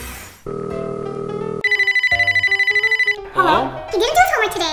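An animated children's cartoon scene where a telephone rings loudly in a string of rapid, pulsing electronic trills, preceded by short tonal beeps, then a voice picks up and starts talking.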